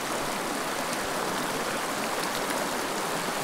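A high-elevation mountain stream holding brook trout rushes steadily nearby, a dense, even wash of flowing water with no pauses and no voices.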